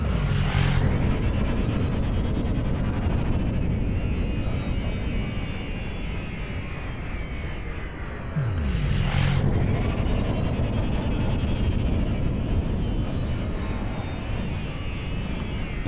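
Spaceship engine thrust in the game Elite Dangerous while flying forward near asteroids, a loud continuous roaring rumble with a shifting whoosh partway through.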